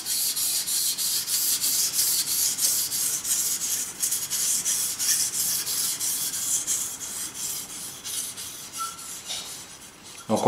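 Steady, close rasping of a knife blade stroked back and forth on a fine Suehiro 6000-grit whetstone, an even hiss-like scrape running continuously with faint rhythmic pulses from each pass.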